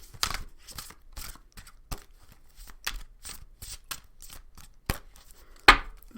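Oracle cards being shuffled in short bursts of papery riffling and flicking, closer and louder toward the end, with no talking over them.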